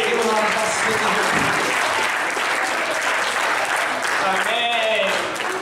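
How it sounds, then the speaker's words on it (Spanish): A church congregation applauds loudly and continuously, a dense wash of clapping and crowd noise close up, with voices mixed into the applause throughout. "Denle un aplauso"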